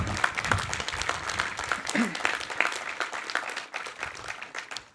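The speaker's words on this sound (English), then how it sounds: "Let's give them a round of applause to recognize them today." Applause from the audience at a college graduate commencement ceremony, a broad crowd clapping that holds steady and then thins out toward the end, with a voice partly audible underneath.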